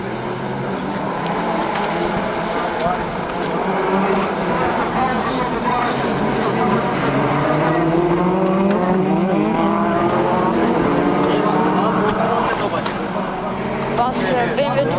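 Race cars, a BMW among them, drone steadily through the whole stretch while people talk continuously over the engine noise.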